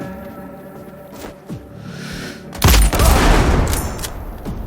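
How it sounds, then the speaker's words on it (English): Gunfire erupts in Sniper Ghost Warrior Contracts 2: a few faint shots, then a loud, sustained burst of rapid fire with booming echoes. "Someone's firing!"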